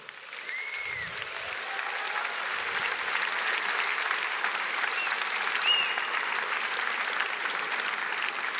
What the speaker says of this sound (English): Let's give Buzz and Sarah another big round of applause